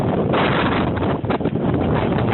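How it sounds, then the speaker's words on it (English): Strong wind roars during the 2011 Chicago blizzard, a loud, continuous buffeting rush against the microphone with brief dips, no voices. "It is freaking windy."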